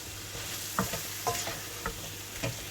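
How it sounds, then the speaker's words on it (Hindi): Masala for chicken karhi being stirred and fried in a pan: a steady sizzle runs throughout, broken by four spoon-scraping clatters at roughly even intervals, close and moderately loud, with no talking. "अब इसे मिक्स करूँगी, थोड़ी देर इसे भूनूंगी"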